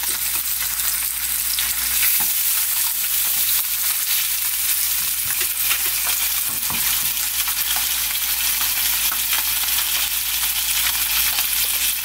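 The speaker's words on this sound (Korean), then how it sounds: "조기를 넣으시면 돼요. 기름이 튀니까 기름이 없는 곳에서부터 넣겠습니다" Salted yellow croaker fish fries in oil in a pan, giving a continuous loud hissing sizzle with scattered crackles and pops throughout, with no talking.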